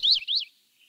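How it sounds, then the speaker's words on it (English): Yellow-rumped warbler and Cassin's vireo singing beside a patch of young redwoods in a creek preserve: two clear, rising chirped phrases close by, then a faint trailing note. "We hear the sound of the yellow-rumped warbler and Cassian's vireo as we walk by a large patch of baby redwood trees"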